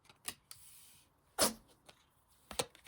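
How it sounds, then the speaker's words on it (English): A cat's single sharp, brief sneeze in a quiet room, with a few faint clicks and rustles around it and another short burst near the end. "My kitty cat sneezed."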